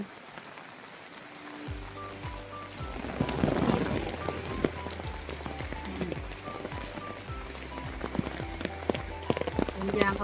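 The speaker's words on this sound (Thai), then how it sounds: "ชุ่มฉ่ำไปพร้อมกับน้ำฝน" Steady rain patters on surfaces nearby on a boat, with scattered drips and drops tapping irregularly, while a voice talks quietly in the background.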